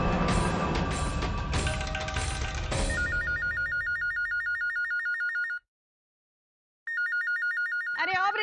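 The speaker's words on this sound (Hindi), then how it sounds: "अरे ओ ब्रिज बिहारी, क्या विलायत से तेरी बुआ का फोन आया है जो तू फोन उठा रहा है?" A telephone rings in a home scene of a Hindi TV drama: after loud music fades, a shrill electronic ring repeats in quick bursts, stops briefly, then starts again before a voice cuts in.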